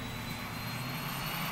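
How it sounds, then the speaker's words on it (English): Steady, continuous roar of a jet airliner near Seattle-Tacoma International Airport, a broad even engine rumble with a faint high whine, heard alone without voices. "We'll take a plane to our next stop."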